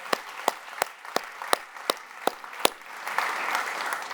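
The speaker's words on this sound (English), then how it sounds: "big round of applause" About eight sharp, evenly spaced claps ring out in a keynote hall, probably a few hands starting the applause, before a softer wash of crowd clapping swells up underneath.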